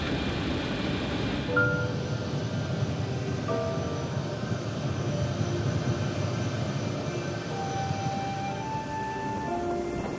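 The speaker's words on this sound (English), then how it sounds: "the C-17 Globemaster is one of the most vital aircraft in the U.S." Large military transport aircraft, a U.S. Air Force C-17 Globemaster, produces a steady broad engine roar with a faint high whine, continuous and moderately loud throughout.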